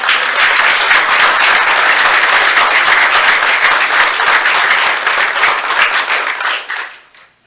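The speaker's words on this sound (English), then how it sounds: "A round of And applause." Sustained applause from the audience at a Bedford city council meeting, steady and full for about seven seconds before tapering off to silence at the end.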